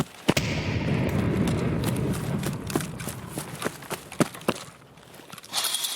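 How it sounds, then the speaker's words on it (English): A thrown grenade goes off in Escape from Tarkov with a sharp close blast and a rumbling tail, followed by scattered cracks and thuds and a final broad burst. "Let's just throw a nade over in the corner."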